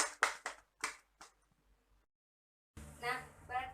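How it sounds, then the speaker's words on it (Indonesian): A brief burst of five or six quick claps from a small group of students in a classroom, then a pause before someone starts talking. "Beri tepuk tangan untuk Biah terlebih dahulu."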